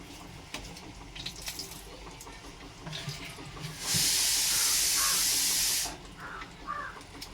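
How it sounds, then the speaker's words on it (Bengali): Oil hitting a hot pan while cooking Bengali-style spiced meat with fried potatoes sets off a loud, steady two-second sizzle midway through, surrounded by quieter kitchen clatter. "এবার আমি আবার একটু তেল দেবো, যেহেতু কষা মাংস একটু বেশি লাগবে তেল।"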